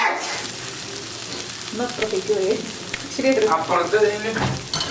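Beef dry-roasting with masala in a pan with little oil, the meat steadily changing colour, gives a steady close sizzle and crackle with occasional stirring scrapes.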